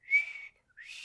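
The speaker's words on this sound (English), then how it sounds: "Just do a normal whistle if you want to signal them to attack." A human mouth whistle, two short high whistled notes with a brief gap between them, close and clear with no other sound.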